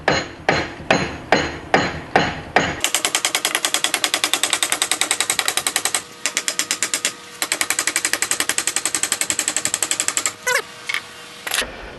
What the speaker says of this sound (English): So hopefully with my lead hammer here, yeah, it's moving.